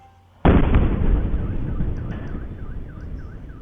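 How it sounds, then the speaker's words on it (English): A single loud explosion bursts suddenly in the distance, a sharp boom that rolls into a long decaying rumble, with faint warbling alarm-like tones behind it. "There's an explosion over there."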